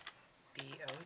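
A few quick, soft keystrokes on a computer keyboard, faint and close, with a voice speaking over them.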